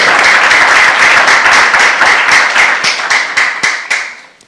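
A church congregation claps together during a youth sermon, loud, dense and fairly rhythmic, the claps growing sparser and fading out toward the end.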